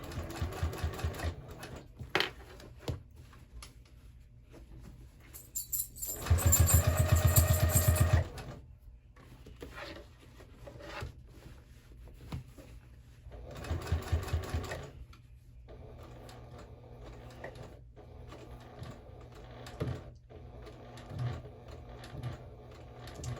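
A sewing machine back stitches a 1/8 inch seam on a crossbody bag, running in several separate bursts of rapid stitching, one long loud run in the middle, with quieter slow stitching and pauses between.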